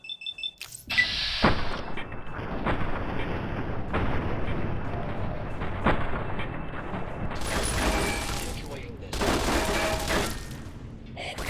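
Gunfire in the video game Fallout: New Vegas, a dense run of repeated shots and bursts that carries on steadily across the whole stretch, loud and close, with no talking over it.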